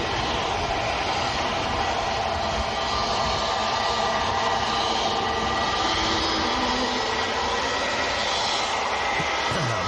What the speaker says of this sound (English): This one's going to Marrakesh in Morocco, A320 Neo.